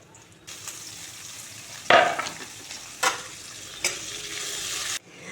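A bay leaf, cinnamon pieces, cardamom pods and cloves dropped into hot oil in which onions have been frying, with a sharp sizzling burst at each addition over a continuous crackle, and stirring in between.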